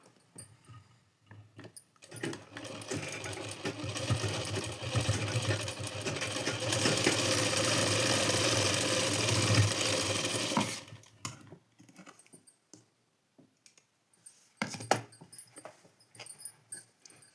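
A sewing machine runs steadily for several seconds while stitching along a blouse strip, close and continuous. It stops, and scattered handling clicks follow.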